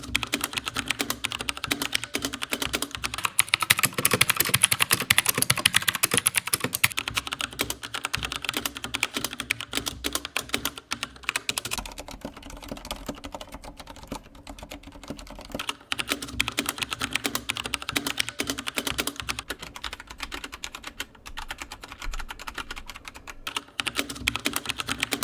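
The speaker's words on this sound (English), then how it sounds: "I'll compare this with some other keyboards so that you guys have an idea of what it sounds like." Steady, continuous typing on a James Donkey mechanical keyboard with Gateron Brown switches, a dense run of soft clacky keystrokes at close range with no talking, briefly easing off midway.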